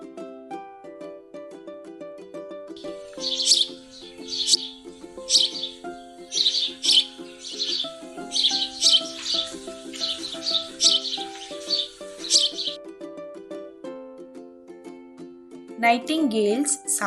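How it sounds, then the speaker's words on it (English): A sparrow chirps in quick, bright bursts over a steady background of tonal music, the chirps clustered through the middle and returning briefly at the end. "Sparrow sounds crip."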